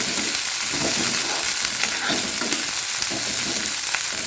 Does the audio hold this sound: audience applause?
no